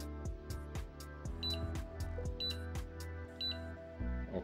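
A TOOLTOP ET14S multimeter sounds its temperature alarm as a series of short, high electronic beeps repeating about once a second, heard close up over a faint low hum.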